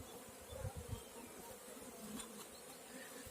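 Steady droning buzz of many honeybees around a hive, a continuous low hum with a few louder passes of bees flying close by.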